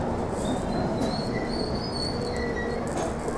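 A London Underground train rumbles steadily on the rails, with faint high metallic squeals now and then over a constant low roar.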